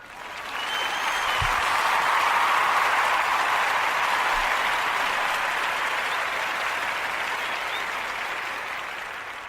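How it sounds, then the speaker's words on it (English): A crowd gives sustained hand clapping and applause, a dense even roar of many hands that swells quickly, holds steady for several seconds and then slowly tapers off. "let's give her a hand clap and applause"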